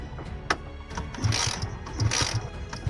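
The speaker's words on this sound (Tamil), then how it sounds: "இப்போ நான் கிக் ஸ்டார்ட் பண்ணுறேன்." Motorcycle kick starter pushed down repeatedly while the engine fails to start, giving close mechanical ratcheting clicks and gear whirs in a few uneven strokes, with no engine catching and no talk.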